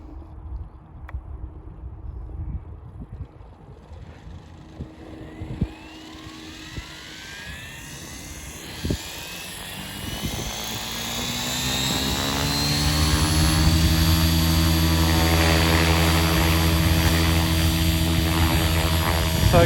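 A radio-controlled model helicopter holds a steady hover, its rotor and motor whine running continuously with strong tonal harmonics that grow louder and fuller over the last several seconds; no talking.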